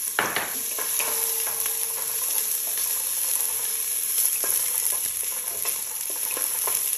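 Onion sizzles in olive oil in a pot, a continuous bright frying hiss with occasional light clicks and scrapes, close and steady, with no one speaking.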